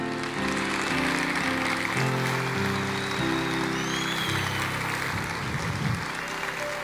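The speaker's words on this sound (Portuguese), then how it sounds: "Aplauda o Senhor, glorifique a Deus." A church congregation claps in praise over a steady musical backing, the dense applause continuing throughout.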